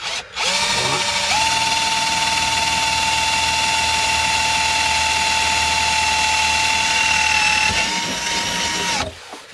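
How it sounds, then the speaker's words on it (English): A power drill bores through a paracord spool held in a vise, a loud steady whine that spins up at the start, holds for about eight seconds, then winds down abruptly. "I'm just going to drill straight through with the obviously my power tool"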